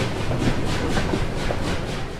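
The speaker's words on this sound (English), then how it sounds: "The doors shut, clank, clank, and the train leaves." A train pulling away in a children's story reading, a steady loud rumbling roll with rhythmic clickety-clack pulses throughout, no talking.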